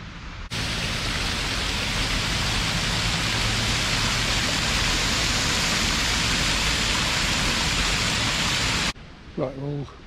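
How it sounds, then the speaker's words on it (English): Rain falling steadily on a street in Bydgoszcz, Poland, a loud, even hiss of drops that keeps up for several seconds before stopping short, followed by someone speaking briefly. "If it's still raining, I'm gonna call it off for a while."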